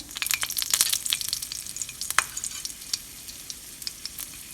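Cumin seeds, mustard seeds, jalapeno and curry leaf crackle and sizzle in hot oil for crispy okra, with dense sharp pops and spits over a steady fry, loud and close, with brief stirring.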